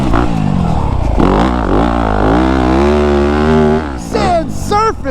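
A Yamaha YZ250F dirt bike engine revs hard on a sand track in the woods, a loud, close whine climbing and wavering in pitch before choppy, sharp blips at the end.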